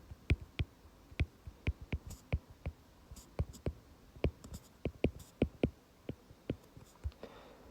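Pen strokes on paper while writing out a bromination reaction for a chemistry test: a quiet, close series of short, sharp taps and scratches in an uneven rhythm, heard alone.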